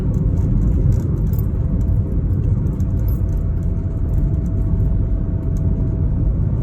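A car rolls downhill on a winding road, its steady engine and tyre rumble constant throughout with faint rattles and clinks from inside the cabin.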